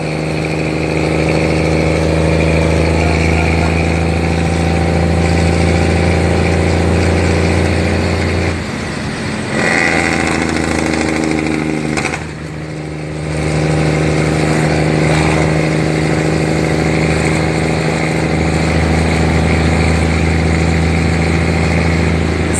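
A heavy diesel truck engine idles steadily and close by in Jamaica, a constant low rumble with a brief dip and surge partway through.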